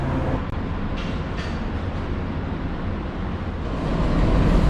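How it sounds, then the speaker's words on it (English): The Overland passenger train between Adelaide and Melbourne, led by Pacific National's 1941-built locomotive NR41, sends up a steady low rumble and rolling roar close by, swelling slightly toward the end, with no talk. "So here's our train today."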